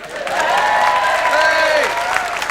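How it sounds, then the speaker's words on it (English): A stand-up comedy crowd at an Ardal O'Hanlon show in 1997 claps for the theatre's orchestra pit, a loud, continuous wash of hands mixed with whooping, cheering voices. "Big round of applause for the orchestra pit."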